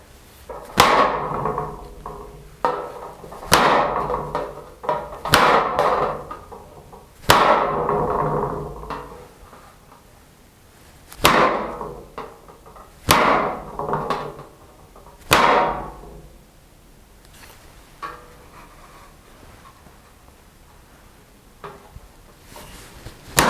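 Liner tools hammered into copper sheet for fish repoussé work outdoors, sharp metallic strikes in irregular bursts and short runs, loud and close, separated by quieter pauses.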